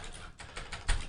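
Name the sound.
typing on a computer keyboard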